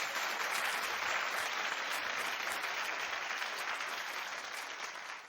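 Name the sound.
studio audience clapping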